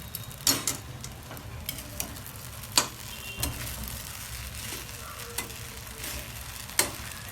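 Crushed peanuts being stirred into sabudana khichdi in a pan, giving soft scraping stir strokes with a few sharper clicks of the spoon against the pan, close and alone with no talking.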